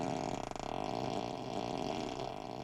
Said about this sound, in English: you can activate each seat so that when someone sits on it, as you can hear, it makes a farting sound